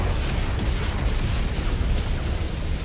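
Missile explosions in the Wolverine video game, a continuous loud, close roar of blasts and rumbling debris with deep low-end boom, dense and sustained without pause or speech.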